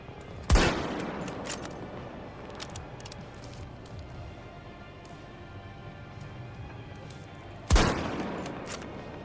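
Two loud, sharp scoped-rifle shots in the video game Battlefield 2042, one near the start and one near the end, each with a booming tail, over faint background game noise.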